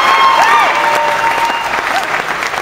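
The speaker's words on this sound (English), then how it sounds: "cheer if you were here at the beginning" Audience at an open stage show cheering and applauding, a loud, steady wash of clapping with scattered whoops that eases slightly toward the end.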